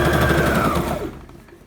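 A Brother GS1700 sewing machine sewing a large stitch gives out a fast, steady mechanical chatter with a rising whine that winds down and stops near the end.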